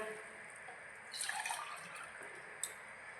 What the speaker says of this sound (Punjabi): ਆਪਾਂ ਡੇਢ ਗਲਾਸ ਜਿਹੜਾ ਪਾਣੀ ਦਾ ਪਾ ਲਿਆ